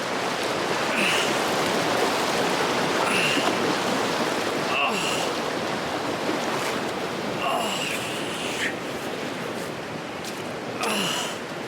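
Freezing cold stream water splashes and rushes continuously around wading legs, with sharp gasps and heavy breaths breaking through at intervals.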